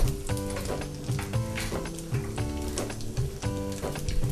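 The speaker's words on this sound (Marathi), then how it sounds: "तेल तापलेलं आहे, मोहरी, जिरं टाकलं" Mustard seeds, cumin and asafoetida sizzle loudly in hot oil in a kitchen pan, a dense crackling hiss with repeated popping bursts and clinks throughout, close and continuous.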